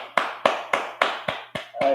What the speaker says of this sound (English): so you can clap that up